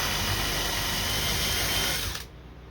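A power drill backs screws out of a Steinway grand piano during teardown, whining loudly and steadily for about two seconds before it cuts off abruptly.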